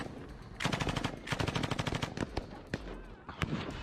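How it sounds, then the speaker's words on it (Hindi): Automatic rifle fire pours onto an ISIS vehicle in Mosul, Iraq: rapid bursts of close, sharp shots in uneven clusters with brief gaps between volleys. "इराक के मोसूल से, जहां पर आईएसआईएस की एक गाड़ी पर सरेआम गोलियों की कैसे बौछार की गई"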